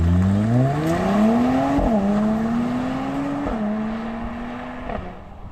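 A Mercedes C43 AMG engine revs up through several gears, the pitch climbing and dropping at each shift, loud and close, heard from inside the vehicle.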